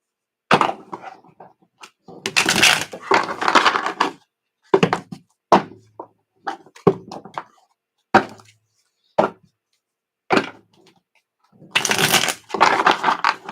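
Tarot cards shuffled by hand in repeated bursts of riffling and flicking, crisp and close, broken by brief pauses and single sharp taps, with no talking.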